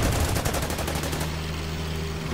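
A Sherman tank in the Order of Battle wargame fires on a Japanese Kato tank along the Burma Road near the Irrawaddy River, a loud rapid burst of gunfire in the first second fading into a low rumbling drone.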